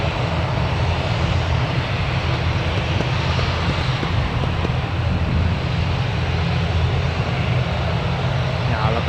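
An ATR turboprop airliner at Newcastle Airport drones steadily and loudly throughout, a broad continuous engine roar with a low rumble that holds without letup.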